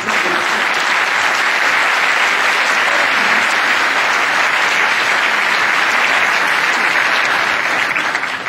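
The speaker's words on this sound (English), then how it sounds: "let's give her a round of applause" Dense, loud applause fills a large hall for a woman just introduced on stage, a continuous wash of many hands clapping with no voices over it.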